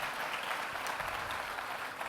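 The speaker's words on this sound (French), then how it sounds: "On n'a plus qu'à vous applaudir une dernière fois." Steady applause from a conference audience at a retail industry event in France, a dense even patter of many hands clapping with no voices over it.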